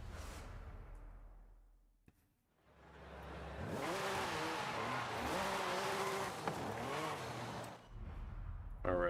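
A race car in the video game Forza Horizon 5 roars close and loud, its engine revving up through rising gear shifts with tire squeal and rushing whoosh, after a brief quiet dip.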